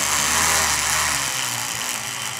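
A drill bit grinds steadily through a gemstone, a loud close whining buzz whose pitch shifts and drops partway through as the bit breaks out the far side.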